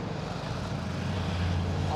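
Triumph adventure motorbikes on a road near Lonavala, at a petrol pump stop, make a continuous low engine rumble that swells slightly toward the end as they pass.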